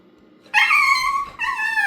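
A dog shut outside whines in two high, strained bursts, the first about three-quarters of a second long and the second after a brief pause, loud and close.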